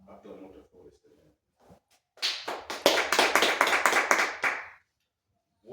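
A church congregation claps to acclaim the Lord, about a dozen sharp, fairly close claps in a quick rhythm, joined in a burst after some quiet talking and murmuring, then stopping abruptly.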